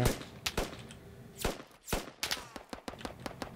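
Gunfire from the Squad military shooter game: sharp single shots and short bursts crack repeatedly over about three and a half seconds, some close and loud, others more distant, with no talking.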